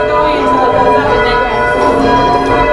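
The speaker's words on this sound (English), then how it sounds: "now the bell is actually up. So then you ring normally." A large tower bell at the Hingham Memorial Bell Tower rings after being raised, a loud, sustained metallic tone with rich overtones droning steadily and close throughout.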